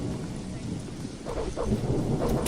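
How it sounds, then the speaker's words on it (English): Steady rainfall with rolling thunder in the video game Chronicles of Myrtana: Archolos, a dense continuous wash of rain under low rumbles that swell louder toward the end, with no voices. "And it's raining too often."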